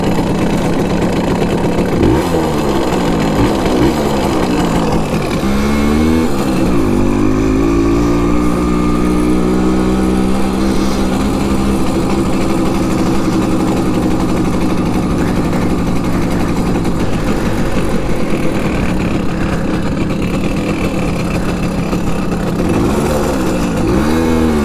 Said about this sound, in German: Aber trotzdem hört sich der Motor jetzt irgendwie komisch an.